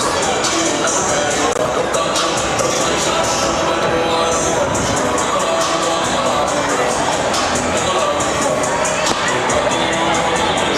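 A packed crowd cheers and shouts in a high school gym during a boys varsity basketball game, a loud, sustained roar of many voices, including young shouting, that stays dense from start to finish.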